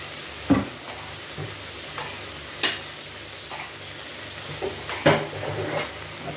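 Okra fries in a pan with a steady, soft sizzle, broken by occasional scraping stirs and light clinks of utensil against the pan.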